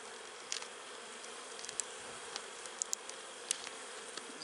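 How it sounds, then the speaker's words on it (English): Dense, steady buzzing of many honey bees close by at a hive, with individual insects darting past now and then; no voices. "Look at these bees."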